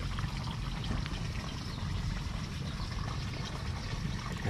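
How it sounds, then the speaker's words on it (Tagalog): Water pours and trickles steadily along a dug irrigation channel between calamansi trees, a continuous close gurgling flow with no talking. "maginhawa po ang daloy po ng tubig"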